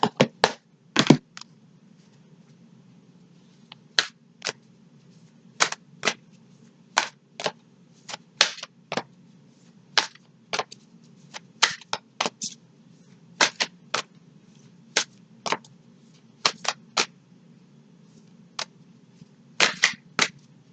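Crisp snapping riffles and flicks of Spirit Animal Oracle cards being shuffled during a card reading, sharp close bursts arriving in irregular clusters over a low steady background hum, with no talking.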